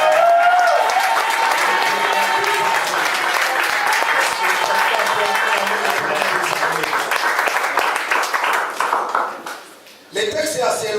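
A church congregation applauds in a sustained, loud, dense wave of clapping that fades out near the end, followed by a brief voice.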